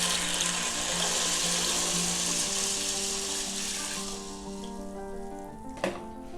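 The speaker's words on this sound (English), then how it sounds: "I'll put my water." Water runs steadily into a cooking pot of salted beans, making a loud, continuous splashing rush. It tapers off after about four seconds and ends with a faint clink.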